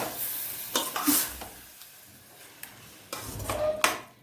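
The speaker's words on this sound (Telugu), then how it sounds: "ఇది బాగా ఫ్రై అవ్వాలి." Rajma masala paste with tomato fries in a pan with a low sizzle, broken by a few scraping stirs and clinks of a utensil close by.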